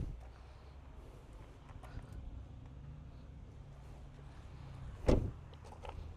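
Electric seat motor in a freshly imported car whirring faintly and steadily inside the cabin, followed by a sharp click or thump near the end.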